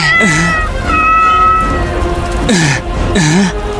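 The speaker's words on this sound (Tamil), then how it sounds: "பூனை" A cat meows several times, loud and close, with long drawn-out cries and a pause between them, no talking.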